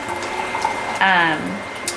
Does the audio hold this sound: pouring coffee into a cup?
yes